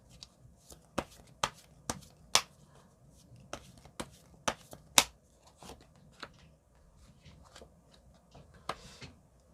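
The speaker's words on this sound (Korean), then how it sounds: "좋은 카드를 뽑아보도록 할게요" Tarot cards are shuffled and drawn close up, producing a string of sharp, crisp slaps and flicks at irregular intervals, each brief and distinct against a quiet background.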